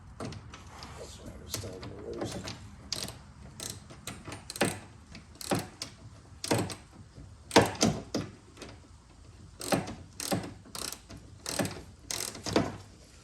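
Bolts are tightened on the skid plate of a Polaris RZR XP 1000 with a hand ratchet, which gives close, repeated bursts of clicks at an irregular pace, with a brief voice early on.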